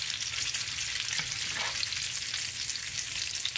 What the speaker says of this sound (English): So my bacon is cooking away here.